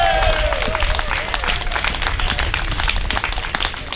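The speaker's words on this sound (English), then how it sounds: "Give them a big round of applause." Outdoor crowd at a Counter Olympics Network protest demonstration in London claps and cheers, a steady wash of applause with a loud voice riding over the noise.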